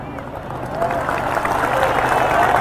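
A sermon congregation breaking into applause, a broad wash of clapping and crowd murmur that swells and grows louder toward the end.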